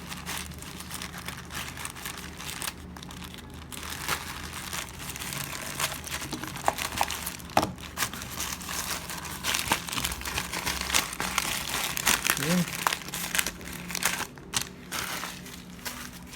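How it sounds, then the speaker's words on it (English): A package being cut open and unwrapped for an unboxing, with steady crinkling and crumpling of packaging material and occasional sharper tearing or crunching noises running close up throughout. "let's cut this package off"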